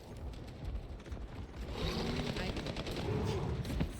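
A special gun fires in a video game, a rapid rattling burst of shots that builds and continues steadily over a low mechanical hum, with no speech.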